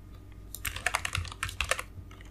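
Rapid clicking keystrokes on a computer keyboard while typing a menu item label for a Laravel blog dashboard, arriving in short bursts of several taps each, close and fairly quiet with no talk.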